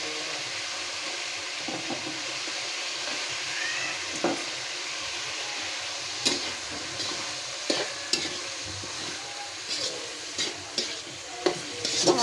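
Vegetable stalks frying with spice paste in a pan, a steady close sizzle broken by repeated scraping stirs that grow sharper and more frequent toward the end, with no talk.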